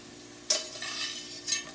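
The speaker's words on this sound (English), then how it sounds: "we need to get rid of the excess clarified butter that's in the skillet here" Clarified butter is poured off from a skillet of potatoes, giving a steady soft sizzle with a sharp splash onset and a second brief burst near the end, close and moderately quiet.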